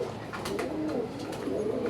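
Bombay pigeons cooing in a loft, a steady low rolling coo close by and moderately loud, with no talk over it.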